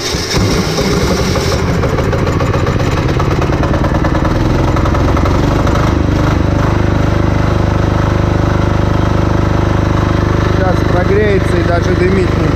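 An MTZ tractor's diesel engine cranks and catches, then settles into a loud, close, steady idle with a deep rumble that holds unchanged to the end.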